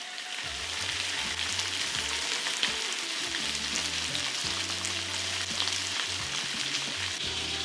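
A lamb leg sears in very hot vegetable oil in a cast iron pan, giving a loud, close, continuous sizzle and crackle that holds steady throughout.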